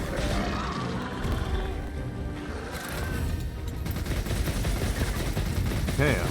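Gunfire during a Monster Hunter Wilds hunt, dense rapid shots building in intensity toward the end, mixed with clanks and crashes and some talk.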